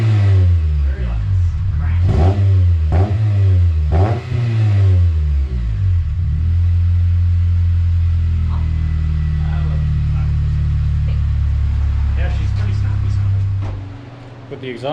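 Sharp, repeated revs of a loud aftermarket exhaust on a budget coupe blip in a quick rhythm, then the engine drops to a steady deep rumble before cutting off.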